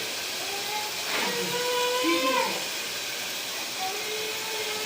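Meal maker soya chunks fry in a pan, giving a steady, close hiss of sizzling with some brief whistling and tonal noises rising above it partway through.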